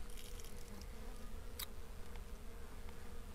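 Honey bees buzzing in a steady, continuous drone, close by, with a brief sharper click partway through and no voices.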